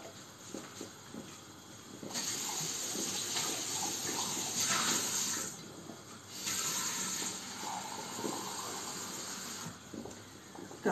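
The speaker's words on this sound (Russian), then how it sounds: "Так, набрала я воды." Water runs from a kitchen tap into a pot as a soft, steady hiss in two long stretches with a short pause between, fairly faint beneath background room noise and the clatter of cooking.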